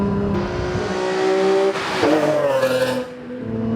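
A Nissan Z33 Fairlady Z on coilovers set to the stiffest setting is driven hard through a big corner. The engine is loud and close, with a steady pull that rises in pitch mid-corner and a brief tire squeal.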